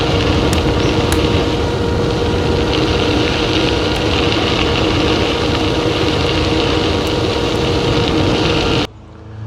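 A rear 750-watt e-bike hub motor runs with a steady, continuous whine and hum at constant loudness, close by, cutting off abruptly near the end.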